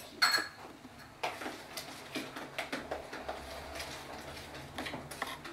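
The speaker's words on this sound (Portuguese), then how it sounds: "Vou mexer com a colher." Someone stirs chayote fritter batter with a spoon in a bowl, making a steady series of soft clinks and scrapes after an initial brighter clink.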